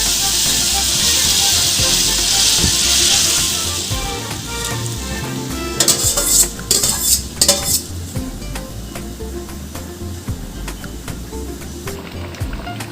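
Soaked lentils and green papaya hit a hot wok with a loud sizzle, then a utensil scrapes and clanks against the pan as it is stirred, close and busy.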